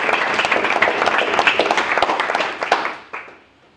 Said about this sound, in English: I think we should give her a little applause.